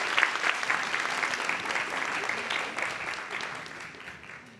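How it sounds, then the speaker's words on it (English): Audience applause at the close of an FIU EdIT 2023 faculty presentation on classroom technology, a dense, steady wash of many hands clapping that holds strong and slowly thins toward the end. "Let's give them another round of applause."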